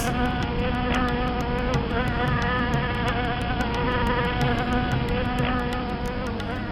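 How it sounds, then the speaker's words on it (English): A dense, steady insect buzz like a swarm of bees, loud and continuous with no voices, its drone unbroken throughout. "Out of a swarm of bees,"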